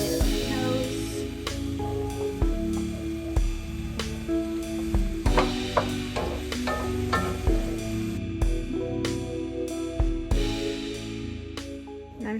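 Liquid tomatoes hitting a hot pan and sizzling, a continuous frying hiss broken by repeated scraping and clattering as the mixture is stirred.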